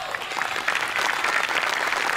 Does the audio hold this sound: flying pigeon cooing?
no